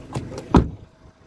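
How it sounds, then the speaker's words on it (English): The door of a 2013 Honda Civic 1.6 i-DTEC SE shuts with a single close, solid thud after a couple of faint clicks, then quiet. "And the door shuts, as you can see there,"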